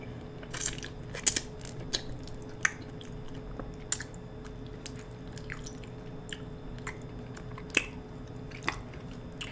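Close, intimate chewing of saucy spaghetti, with wet squishy bites and soft smacking clicks scattered irregularly over about ten seconds, no talking, against a low quiet background.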